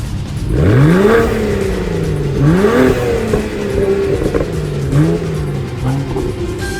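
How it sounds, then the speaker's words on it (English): A car engine revs up hard several times in a row, each rev climbing in pitch then dropping back, loud and close by. "Let me get a couple revs."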